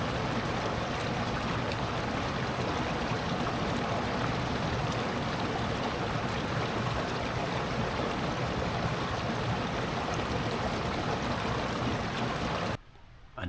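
A flowing stream at a backpacking water source, steady and loud, rushing and splashing with a broad hiss up close that carries on without a break and then cuts off just before the end.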